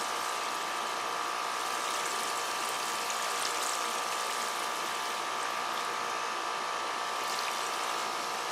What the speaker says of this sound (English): Now let's water the containers.